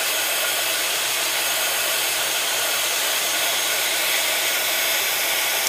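A handheld hair dryer blows steadily over a watercolor painting, a constant, close, airy whoosh with no change in pitch or breaks from start to finish.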